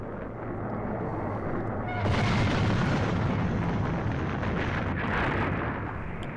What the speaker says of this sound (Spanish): Tras la explosión, la onda expansiva pulveriza lo que queda.